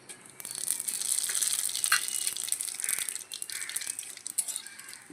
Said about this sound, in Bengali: এই মাছ ভাজার তেলের মধ্যেই এবার ফোড়নটা দিয়ে দেবো। ফোড়নে দিয়ে দেবো কিছুটা রাঁধুনি আর একটা শুকনো লঙ্কা।